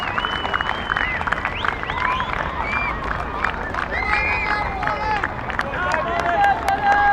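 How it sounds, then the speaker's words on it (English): Young kids applaud a century at a Hong Kong vs. Netherlands cricket match, steady clapping and crowd murmur at a moderate distance, with scattered high shouts and whistles over the continuous applause. "The young kids over there applauding a great century"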